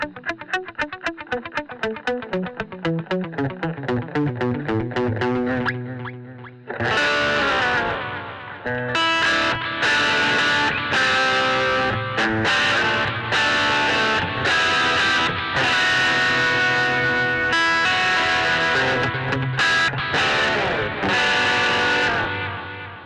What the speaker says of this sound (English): just a real subtle reverb delay kind of a thing